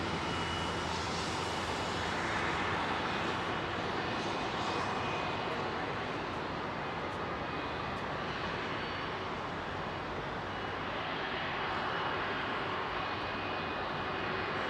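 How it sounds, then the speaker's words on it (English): Airliner with Rolls-Royce Trent 700 engines departing Heathrow, a loud, steady, broadband engine roar that holds near-constant throughout, with no talk over it. "Trent 700 engines."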